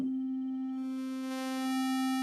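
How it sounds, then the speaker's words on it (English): A steady synthesizer tone holds one pitch while its timbre gradually brightens as it morphs from a sine wave to a square wave, going from a pure smooth hum to a buzzier, harsher sound. "now I'm on a square wave. Sine wave, square wave."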